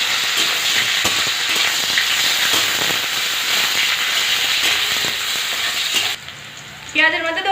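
Chopped onion sizzles loudly in hot oil in a wok, a dense, steady crackling fry with occasional stirring scrapes that stops abruptly near the end, followed by a few faint clinks.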